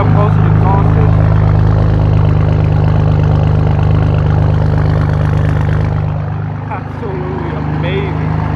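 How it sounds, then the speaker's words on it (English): BMW F82 M4 exhaust idling at close range, a steady low engine drone with strong bass hum holding throughout, easing slightly in level near the end, with faint voices in the background. "Get up close to the exhaust system."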